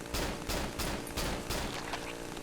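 Rapid bursts of gunfire in the horror game Cry of Fear, about five loud repeated volleys in a steady rhythm across a short stretch, with no talking.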